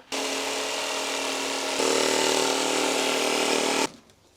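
A jigsaw trims a kit car body panel with a loud, steady mechanical buzz lasting about four seconds. Its tone shifts and grows slightly stronger partway through, then it cuts off abruptly.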